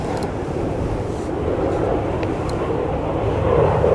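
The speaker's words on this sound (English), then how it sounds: "Noisy planes, always the same here." Airplanes pass overhead beside a fishing lake, a steady broad droning roar that swells slightly louder toward the end, with no talk.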